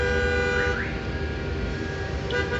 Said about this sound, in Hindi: और ट्रैफिक का शोर।